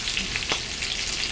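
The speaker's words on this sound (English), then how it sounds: "And you will see shortly how well they fry." Country-style pancakes frying in a hot pan give off a steady, close sizzle of fine crackling hiss with no voices, lasting about a second and a half.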